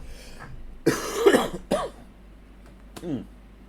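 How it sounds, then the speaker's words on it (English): A few sharp, harsh coughs in quick bursts, one heavy cluster followed by a shorter one and a later single cough, close to the microphone. "Oh, man, I'm coughing a lot this episode."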